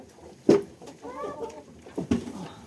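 Hens clucking and a couple of sharp squawks indoors in a goat barn, with soft rustling and shuffling between the calls.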